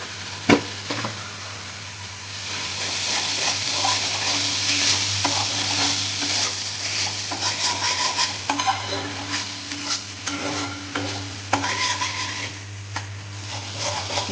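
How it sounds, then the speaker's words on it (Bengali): Spice paste of coriander and cumin powder sizzles steadily in a pan for Bengali-style Bombay duck curry, with repeated scraping stirs of a spatula running through the frying and no talk. "মশলাটাকে ভালো করে কষিয়ে নেব।"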